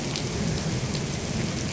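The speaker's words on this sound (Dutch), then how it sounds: "Kijk, het regenen jongens" Steady rain falls outdoors onto parked motorcycles, a Yamaha Tenere and a BMW GS among them, giving a dense, continuous hiss with scattered close drop patter and no talking.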